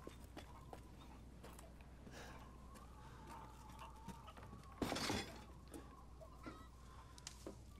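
Chickens cluck intermittently in Resident Evil Village, quiet and somewhat distant, among scattered small in-game knocks and a brief loud crash midway.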